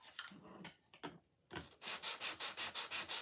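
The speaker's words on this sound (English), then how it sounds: "I'm going to do a preemptive sanding." Sanding a wooden interchangeable insert by hand, a few irregular rubbing strokes at first, then a steady run of rhythmic back-and-forth scrapes, close and fairly loud with no talking.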